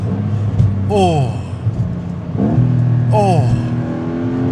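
A 2026 Porsche 911 Carrera GTS engine revs hard through quick accelerating sweeps, with two rising pulls close by over a steady rumble, while a man exclaims briefly.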